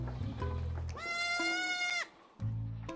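A single long, loud goat bleat rings out clearly on a black goat farm, lasting about a second and standing alone between stretches of low background noise.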